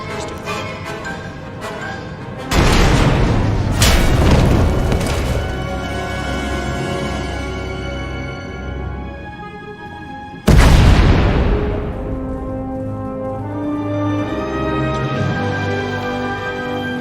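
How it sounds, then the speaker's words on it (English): Two heavy booming explosions in the video game Star Wars: The Old Republic, several seconds apart, each bursting loudly and then rumbling as it fades into a lingering low roar. "We heard explosions, the tunnel collapsed."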